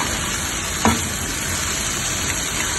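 Masala and boiled potatoes being stirred in a non-stick pan: a steady, close sizzling hiss with a brief scrape of the spoon near the start, no voices.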